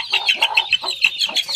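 Bhimavaram country chicken chicks, a native breed, cluck and cheep nearby on a farm, a dense run of short high peeping calls that overlap with no pause and no voices.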